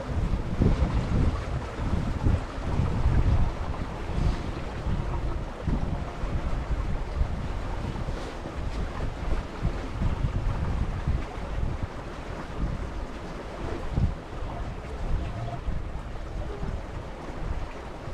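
A newly built cruising sailboat moves through water in a gentle breeze, with steady wind rush across the microphone and continuous water wash along the hull, fairly loud and even throughout, with no voices.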